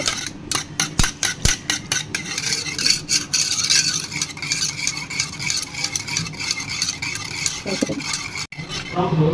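Curd being whisked until creamy in a bowl, rapid rhythmic beating close up at first, then a softer steady scraping churn with a clunk near the end.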